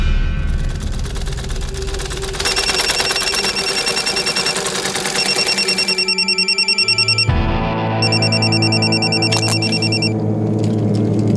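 Loud, repeated electronic ringing of a mobile phone placing a call, a steady pulsing ring pattern that breaks briefly and resumes, with no talking.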